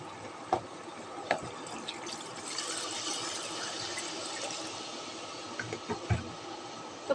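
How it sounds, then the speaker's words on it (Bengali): Water poured into a pot of cooking duck meat, a soft, steady flow of liquid with a few clinks and knocks from the pan, fairly quiet and close. "পরিমাণ মতো পানি আমি দিয়ে দিলাম।"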